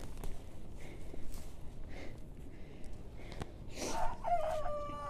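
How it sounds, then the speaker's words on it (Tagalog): A rooster crows nearby on an onion farm, a loud drawn-out call near the end over outdoor background noise and a few clucks and footsteps. "Tukturuok ang ating manok."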